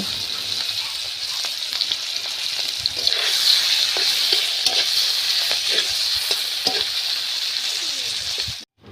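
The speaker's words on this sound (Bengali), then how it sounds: "কড়াইতে তেল দিয়ে তেল গরম হলে কয়েকটি বড় সাইজের চিংড়ি মাছ ভেজে নেব।" Large prawns fry in hot oil in a wok, giving a continuous, close, bright sizzle that holds steady throughout before cutting off at the very end.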